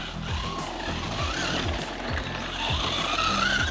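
An HPI Jumpshot SC V2 radio-controlled short course truck drives on a sealed surface, its electric motor whining steadily as the tires scrub and squeal through turns, close and continuous.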